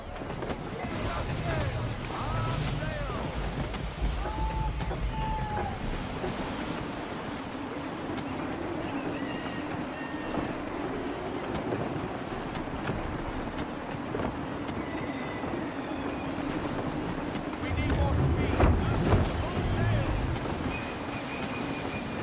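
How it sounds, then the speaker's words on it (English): Gusty wind at sea while sailing a ship in Assassin's Creed III: a continuous broad rush of wind and water with creaking and occasional faint calls, swelling louder near the end, with voices speaking over it. "Gusty winds can be difficult to manage."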